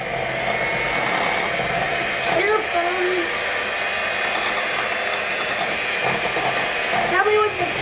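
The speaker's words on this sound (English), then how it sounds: "we're gonna mix this on low speed and get it all blended together" An electric mixer runs on low speed, blending a homemade ice cream mixture with a steady whirring drone, while voices talk briefly over it.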